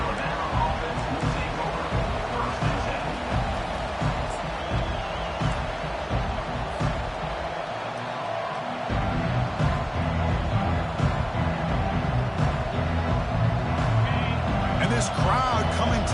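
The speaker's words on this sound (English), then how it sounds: "crowd coming to life here, trying to help the defense get a stop" Stadium crowd noise swells and roars continuously in an NCAA Football 25 college football game, a dense, steady wall of cheering and babble that rises slightly after a brief dip near the middle.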